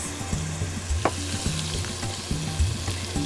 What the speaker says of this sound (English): let the garlic and ginger brown up